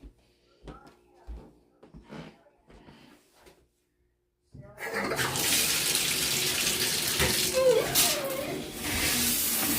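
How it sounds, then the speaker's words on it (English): Someone talks quietly at first, then a faucet is turned on and really cold water gushes out in a loud, steady rushing hiss that continues to the end. "that faucet, turn the top off, and run it in there with really, really cold water"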